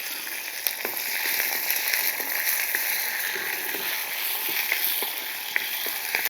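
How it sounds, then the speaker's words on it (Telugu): Tempering of chana dal, urad dal, dried red chilli pieces, garlic, curry leaves and green chillies fries in hot oil, a steady close sizzle with scattered pops and faint stirring, with no voices. "తాలింపు దింపేద్దాం, ఏగిపోయింది"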